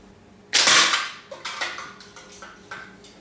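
Slingshot fired with balloon bands, one sharp loud snap followed by a quick series of lighter clattering impacts fading out, close by.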